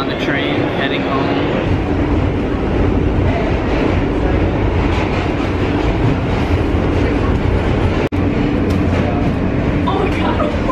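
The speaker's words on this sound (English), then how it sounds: "Made it on the train, heading home." Continuous loud rumble of a moving train with a steady rattling clatter, heard from inside the carriage, with faint voices underneath.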